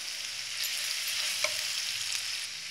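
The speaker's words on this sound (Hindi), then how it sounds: "लहसुन हमारी अच्छे से भुन गई है" Garlic paste frying in a pan with green chillies, a steady quiet sizzle with faint stirring, short and without talk.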